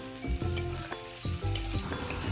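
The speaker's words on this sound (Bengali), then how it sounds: "তারপরে কাঁকড়াগুলোকে একে একে দিয়ে দিয়েছিলাম" Loud, close sizzling of crabs frying in hot oil, with repeated scraping stirs breaking the crackle.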